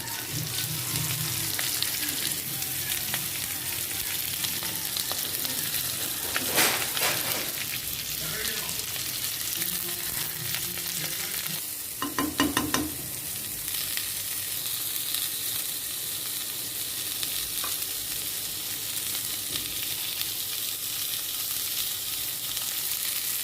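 A large chopped onion fries in oil with a steady, crackling sizzle, broken by a few stirring scrapes and clinks, close and continuous.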